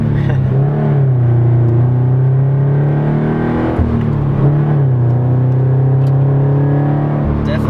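A Subaru BRZ running on E85 fuel drives along with a loud, steady engine drone heard from inside the cabin, with pitch rising and falling through a few rev changes.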